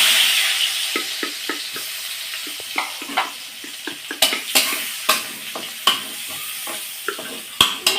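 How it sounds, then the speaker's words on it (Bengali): Chopped onions fry in a pan with a steady sizzle, broken by repeated scraping and clinking of a spoon stirring, no voices. "পেঁয়াজগুলো বেশ ভাজা ভাজা করে নেব।"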